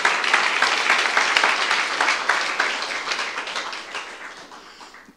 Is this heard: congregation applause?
yes